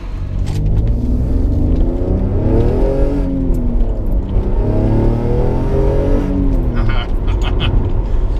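A 2007-era Alfa Romeo 147 GTA is driving with a loud, close engine drone, its pitch rising and falling through gear changes, while a voice speaks over it.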